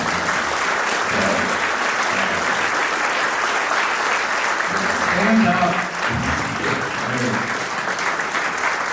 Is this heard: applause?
yes